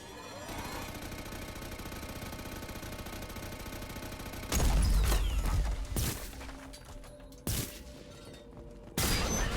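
Gunfire in the Mass Effect 2 video game, with a steady rumbling bed giving way to loud bursts of shots and impacts, then a couple of abrupt louder volleys near the end.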